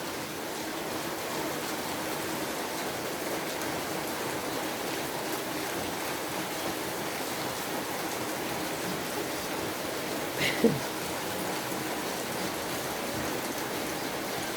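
Steady heavy rain hisses evenly throughout, a constant wash of falling drops with no voices.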